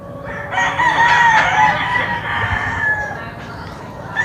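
Boston High Action gamecock rooster giving one long, loud crow that trails off, with faint clucking and background noise underneath.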